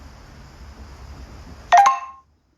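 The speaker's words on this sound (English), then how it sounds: "Sorry for the notification sounds." Electronic notification sounds chime near the end, a quick pair of bright tonal pings that cut in loudly over quiet room background and then stop abruptly into silence.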